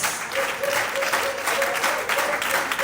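Audience clapping at a sales bootcamp, a loose continuous patter of hands over about three seconds with a faint tonal hum in the background.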